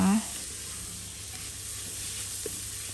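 Grated beetroot frying in a pan, a steady low sizzle right after a brief sound at the start, quiet and continuous with no talk.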